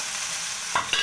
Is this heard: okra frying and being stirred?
yes